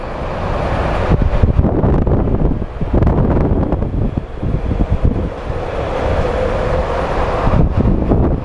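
Breezy wind at Phoenix Sky Harbor Airport buffeting the microphone, a steady loud low roar with gusty swells throughout and no talk.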